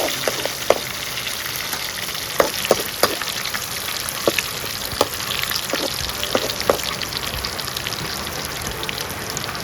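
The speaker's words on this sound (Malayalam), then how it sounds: "ആ ഉള്ളി മൂത്തിട്ട് നമുക്ക് മുളക് ഇട്ട് കൊടുക്കട്ടെ." Onion and dried chilies fry in a pan for a jackfruit seed, drumstick and mango curry, giving a steady close sizzle dotted with sharp pops and crackles.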